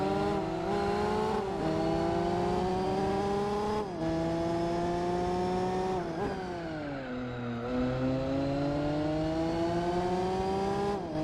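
A 2004 Mazda RX-8 in the racing game Gran Turismo 4 revs high and loud. Its rotary engine whines as the pitch climbs through several gear changes, each marked by a brief dip before it rises again.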